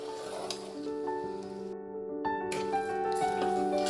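A spoon scrapes and stirs suji halwa with sugar in a pan, a soft, close sizzling swish that continues throughout over faint tonal background sounds, with no talking.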